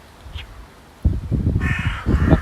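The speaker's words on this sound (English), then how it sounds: "the other ones, Rory and Con, the crow and the rook we look after, they're injured wild birds" A crow caws in an aviary for injured wild birds, a few harsh rasping calls close by after a quiet opening second, rising in a short loud burst near the end.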